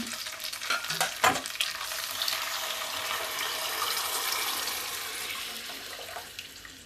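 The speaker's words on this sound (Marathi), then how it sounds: "आता आपण घालूया ह्यात भाजी" Vegetables for pav bhaji hit a hot pan and fry, a few sharp clatters at the start giving way to a continuous close sizzle with light stirring and a faint watery hiss.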